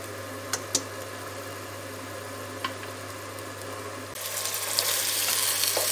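Kidneys in sauce bubble and sizzle steadily as they reduce in a pan, with a low hum behind them; the sizzling grows louder and brighter in the last couple of seconds.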